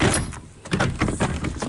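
A loose, rickety door opens nearby with a short scrape and rattling thuds, close and fairly loud, with no talking over it.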